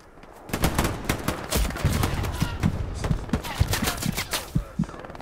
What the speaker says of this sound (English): there's an MG down the road to the east